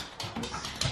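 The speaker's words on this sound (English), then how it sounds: "My dog is very excited that I'm home." Excited pet dog whimpering and whining at close range on a homecoming, a continuous run of breathy whines with a louder burst near the end.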